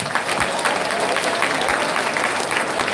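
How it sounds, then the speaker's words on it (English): An audience claps for a guest at a youth talk event, continuous, even applause filling the room at a steady loud level throughout. "Please round of applause for him"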